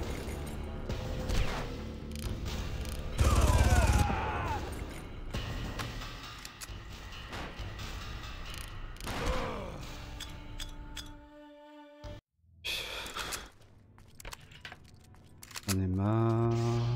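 Gunfire in the first-person shooter Far Cry, bursts of shots and impacts with crashing, clattering hits over game ambience, loud and close, briefly cutting out before more shooting near the end.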